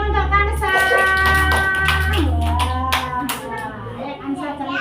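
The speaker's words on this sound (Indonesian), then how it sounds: "Tepuk tangan dong untuk Kansa." Children clap in an Indonesian classroom, a burst of quick, close hand claps and taps mixed with a teacher's and kids' voices.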